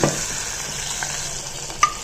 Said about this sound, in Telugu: ఇలా మినప్పాలు దోరగా వేయించుకోవాలి